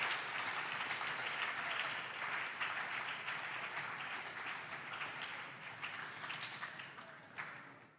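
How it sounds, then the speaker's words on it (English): Audience applause for contestants at a national junior science and maths quiz quarter-final, a steady dense clapping that holds for several seconds and then thins out slowly, with no voices over it. "the contestants need a very big applause, and that will be from our audience"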